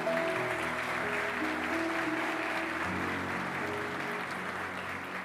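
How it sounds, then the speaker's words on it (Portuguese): A church congregation applauds, a dense continuous roar of clapping hands filling the room at steady loudness, with a faint sustained musical tone beneath. "Você pode dar um aplauso bem bonito para Jesus hoje?"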